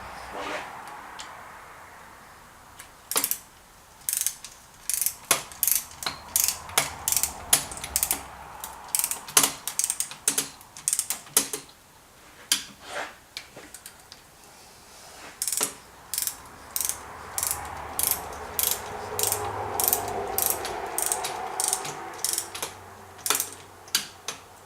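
Ratchet wrench clicking in repeated bursts while snugging down the cylinder head bolts on a Yamaha Command Special engine, the sharp ratcheting bursts close and fairly loud, separated by short pauses, with faint talk and handling noise between.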